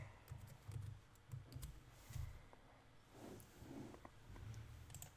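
Computer keyboard keys tapped in short irregular bursts while writing code, a quiet, close clicking with soft low thumps and brief pauses, no voices.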